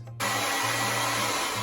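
A blow dryer switches on after a brief silence and runs as a loud, steady whoosh, drying fake cake decorations at close range.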